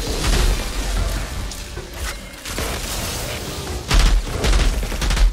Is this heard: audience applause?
no